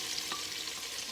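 Chopped onion sizzles as it is added to a hot frying pan while cooking peas with carrots, a bright, steady crackle with a brief stirring scrape, close and alone.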